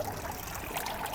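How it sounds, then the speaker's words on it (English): Inlet water flows into an aquaponics filter bed, a steady, close trickling and babbling stream that carries on evenly throughout with no voices. "That's the inlet water coming in."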